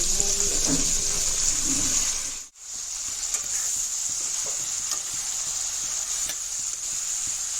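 Water hyacinth fries in a pan with a constant bright sizzle and occasional soft stirring clatter, the hiss briefly dropping out midway before resuming steadily.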